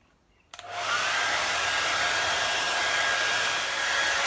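An electric blower switches on with a click and then roars in a steady, loud, close rush of air, imitating a violent wind with no one talking.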